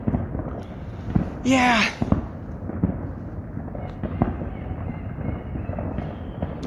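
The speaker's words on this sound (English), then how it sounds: "let's begin the new year with more noise" Fireworks burst across woodland on New Year's night, with a prominent whistling rocket rising and popping plus scattered distant bangs, while someone talks quietly over the noise.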